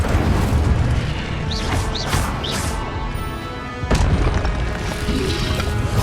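Fire spell cast in the game Hogwarts Legacy on hard mode, a loud dense burst of booming, crackling impacts with whooshing streaks, followed by a sharp hit and continued rumbling.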